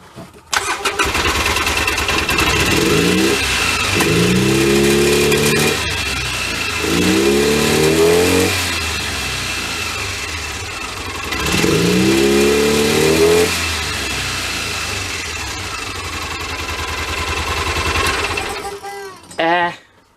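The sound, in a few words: utility vehicle engine running roughly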